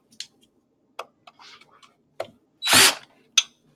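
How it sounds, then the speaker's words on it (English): Power drill driving screws into the side panels of an appliance in short separate bursts, with one longer, louder whir near the end and light mechanical ticks between, close by. "Screw them in one at a time"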